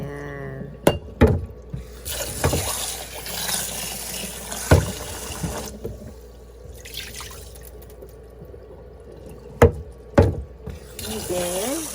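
Water is poured into a pot of freshly washed rice, a steady pouring and trickling with a few sharp knocks and clinks of the pot near the start and end.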